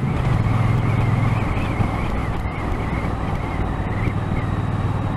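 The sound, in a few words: road traffic noise, cars passing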